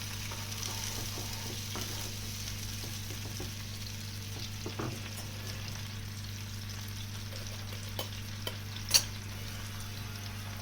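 Dabeli masala mixed with a little water heating in a pan, a faint, even sizzle over a low steady hum, with occasional light clicks and a sharper stir or tap near the end; no speech.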